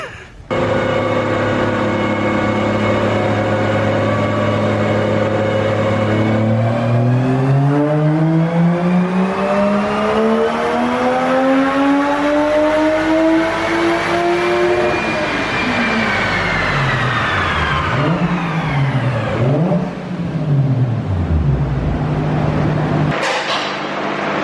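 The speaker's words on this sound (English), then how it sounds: "just did our first run after a bunch of work to get the car to sit on the dyno properly" A lowered Porsche 911 build revs hard on a twin roller dyno, its engine note climbing steadily through the gears in a long loud pull, then dropping and blipping as it winds down, with no talking.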